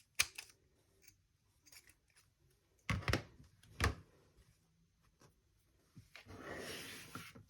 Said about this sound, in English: get a pair of pinking shears, and we're just going to trim all the way around this curve